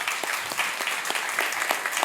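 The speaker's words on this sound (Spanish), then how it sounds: "¿qué le parece si les damos un aplauso de bienvenida?" A church congregation claps in welcome, a dense, lively burst of many hands filling the room for a couple of seconds without speech.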